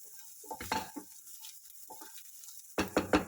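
Spoon stirring turmeric into a mixture in a pan for batata vada filling, giving soft scraping and clinking strokes in short bursts near the start and again louder at the end, quiet between.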